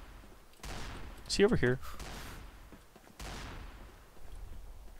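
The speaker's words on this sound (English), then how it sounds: "He's shooting me with an Azazel." Azazel gun firing in the online shooter Combat Arms, a few sharp bursts of shots standing out over continuous battle noise, with players talking over it.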